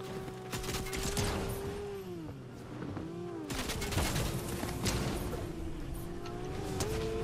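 Gunfire in the Fortnite video game, with rapid bursts of shots mixed with vehicle engine drone and whooshes, dense and continuous game audio throughout.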